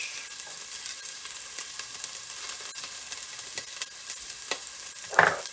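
Ginger sizzles in hot oil in a pot for Jamaican-style curry chicken, giving a steady moderate frying hiss with a few soft stirring scrapes and a brief louder clatter near the end. No one speaks.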